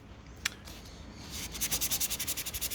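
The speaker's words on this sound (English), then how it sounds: "These are quite good because they allow you to just get into the little indentations." A foam sanding sponge scrubs a Mk2 Escort steel wing in quick, steady back-and-forth rasping strokes, close and fairly quiet, after a few lighter scuffs.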